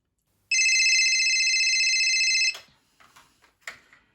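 A telephone rings with a steady electronic trill for about two seconds, then stops, followed by faint handling clicks.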